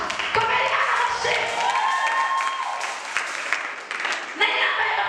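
A church congregation claps together in steady, dense applause that carries on for several seconds, with voices mingling under the clapping.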